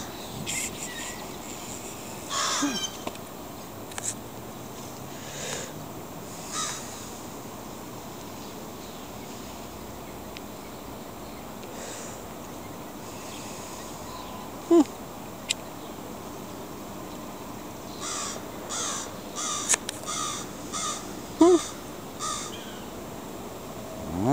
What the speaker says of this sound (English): the crows are teasing her.